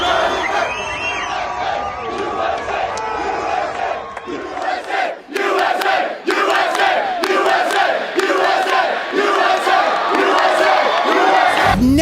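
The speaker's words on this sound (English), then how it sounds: "I've never seen a crowd so enthusiastic to see Charlie." An enthusiastic crowd at an amphitheater roars, cheers and chants in unison, a dense, loud wash of voices with rhythmic shouted bursts and whoops swelling across the whole stretch.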